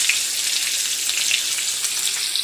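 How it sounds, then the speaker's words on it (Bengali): Potatoes frying in a pan for a home-cooked khichuri meal give off a steady, close, bright sizzle with fine crackles that holds evenly throughout, with no voices. "এবার ততক্ষণ আলুটা একটু ভাজা হয়ে যাক"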